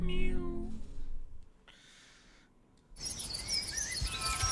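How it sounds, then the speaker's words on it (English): A cat meows in a video game trailer, a clear rising and falling call at the start followed by quieter game music and ambience, with no talking. "There's that cat again."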